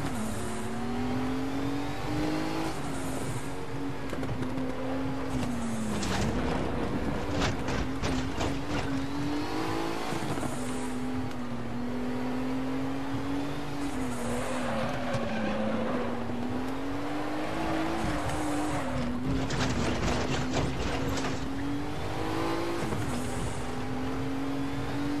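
Fabcar 935 Group 5 classic race car driven at Suzuka in the R3E racing game, its loud engine droning and revving continuously with shifting pitch and brief gear-change dips throughout.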